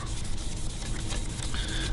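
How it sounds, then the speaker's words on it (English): Sandpaper rubs back and forth over a refinished PRS guitar body in quick, close, continuous scratchy strokes, fairly quiet and with no voices. "Sanding this sucker down"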